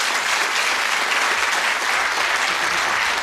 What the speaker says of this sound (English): Please, a round of applause as Pat Roach throws for charity.